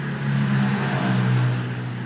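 A Toyota Avanza engine runs at a steady low idle close by, a continuous droning hum that swells slightly and then holds even, with no talking.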